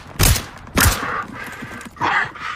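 Two heavy 5.56 rifle reports boom close and loud in the video game SCP 5k, roughly half a second apart, followed by fainter combat noise and a burst of radio-style chatter.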